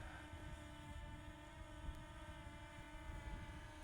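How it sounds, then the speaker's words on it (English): A camera drone hovers overhead in an open desert in Arizona, giving a steady, fairly faint propeller drone with low rumble and broadband hum that holds constant throughout, with no talking. "Here we have our drone up in the air"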